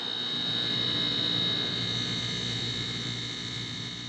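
Fan on a York rooftop HVAC unit runs steadily close by, a constant loud whooshing roar with a sustained high whine, no voices.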